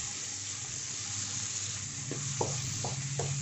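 Ivy gourd pieces with turmeric and salt sizzle in a pan, a steady fry hiss broken by a few light stirring scrapes.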